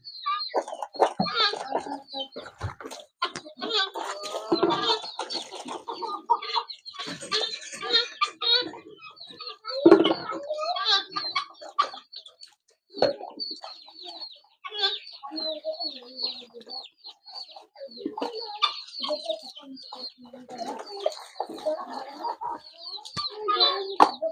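Chicks clucking and chirping in bursts close by on a poultry farm, with occasional voices and handling noises mixed in.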